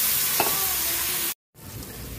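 Rice vermicelli and sliced bitter gourd are stirred in a hot pan, sizzling steadily with scraping stirs and a brief tonal squeak. The sizzle cuts out completely for a moment, then resumes more quietly.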